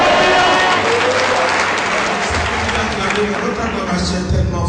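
Church congregation cheers and applauds loudly, a thick roar of clapping and voices with rumbling low tones running underneath throughout.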